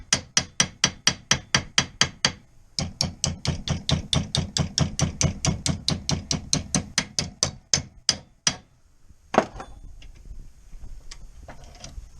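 Rapid, steady hammer blows strike a Classic Mini steel closing panel clamped in a vise to form a 90-degree bend, a long run of sharp metallic hits with a brief pause, then a few final scattered taps.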